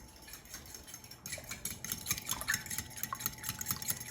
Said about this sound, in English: I'll whisk them.